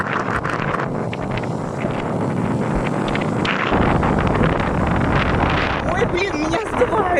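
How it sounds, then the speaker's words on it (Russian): Strong wind gusting at a stormy December seaside in Alanya, loud and continuous buffeting across the microphone with rough surf roaring underneath; a voice speaks briefly partway through. "Ветер сильный."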